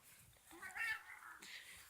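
A house cat gives a short, faint meow indoors, one brief rising cry in a quiet room with soft background noise.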